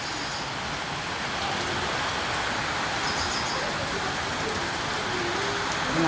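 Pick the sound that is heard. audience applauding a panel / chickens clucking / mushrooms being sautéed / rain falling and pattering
rain falling and pattering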